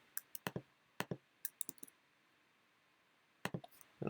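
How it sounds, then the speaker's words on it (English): Crisp mouse clicks while drawing in Adobe Illustrator, single and double clicks in a quick cluster, then a pause and another short burst of clicks, close and quiet, no talking. "I'm just gonna click somewhere up here."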